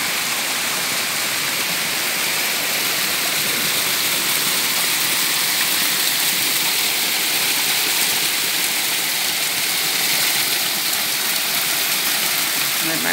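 Small, fresh waterfall with water running down it, a steady broadband rush filling the whole stretch at even, moderate loudness, with no speech over it.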